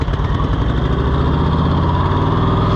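A Cushman Truckster utility vehicle's engine runs steadily at close range, a loud, continuous throbbing drone with no break across the short stretch.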